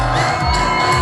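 A Rwandan concert crowd at a show in October 2015 cheers and whoops loudly, a dense wall of shouting voices that fills the brief moment without pause.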